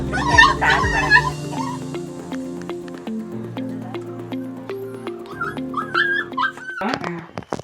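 Dogs and puppies at a rescue shelter for strays in Karada village give out close yips, barks and long whimpering whines that rise and fall in pitch, moderately loud and near.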